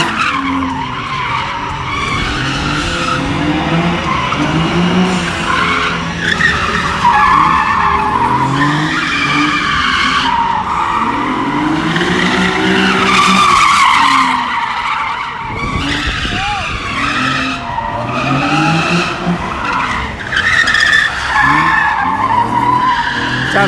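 Stock Nissan 370Z tires skidding and squealing through a burnout at a Hoonigan Burnyard Bash event, a loud continuous screech with engine roar and crowd noise throughout.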